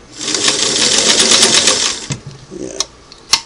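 A Singer Model 338 sewing machine sews a single-needle zigzag stitch through eight layers, a loud rapid mechanical chatter for about two seconds that then slows into a few separate clunks.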